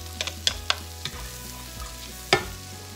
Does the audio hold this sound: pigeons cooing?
no